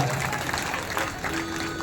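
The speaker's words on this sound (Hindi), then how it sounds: "ताली बजा दो बकरा भेड़ाई का जवाब" An audience at a Chhattisgarhi Ramayan gathering applauds with dense, steady clapping for about two seconds. A faint tone and murmuring voices can be heard underneath.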